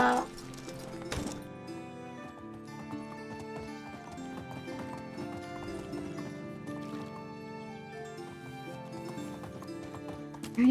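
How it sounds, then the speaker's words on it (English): Donkey hooves clip-clopping at a steady walking rhythm in the medieval survival game Medieval Dynasty, a moderately loud, regular tread layered over tonal in-game background music. "let's call on a donkey"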